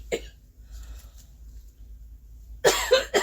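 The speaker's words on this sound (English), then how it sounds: "I don't know what I got hold of, but it's got me coughing" A person coughs once, then after a quiet pause lets out a burst of harsh, close coughs in quick succession.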